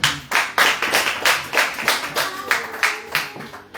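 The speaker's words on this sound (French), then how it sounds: "On peut acclamer pour la parole de Dieu." A church congregation applauds with steady, rhythmic clapping, loud and close, keeping an even beat throughout without talk.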